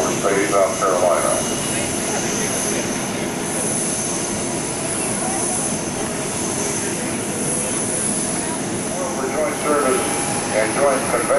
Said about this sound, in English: So there's another pass, and this again is from Charleston Air Force Base, South Carolina.